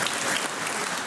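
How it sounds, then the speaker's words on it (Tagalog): Applause at a Sunday morning worship service: a short, dense burst of clapping from a congregation, loud and continuous, with no speech over it. "Mahinang palakpak, pakilakas."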